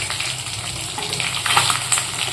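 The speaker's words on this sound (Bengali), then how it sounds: "মাছ ভাজাটা বসিয়ে রেখেই" Fish frying in a pan at home, a steady close sizzle and crackle with a watery hiss that keeps going the whole time, rising a little toward the end.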